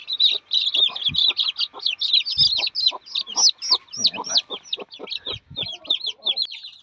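A mother hen that has just come down with her chick gives low, repeated clucks close by, while rapid high peeping calls run almost continuously over them.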